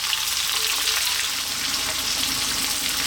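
A large chopped onion with whole seeds and a pinch of salt fries over lively heat for a spicy chicken coconut curry, a loud, even sizzle crackling steadily and close with no voices.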